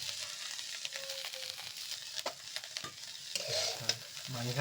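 Prawns fry in a pan with a continuous sizzle, joined by scraping stirs and a few sharp utensil knocks against the pan, up close and moderately quiet, with no voices.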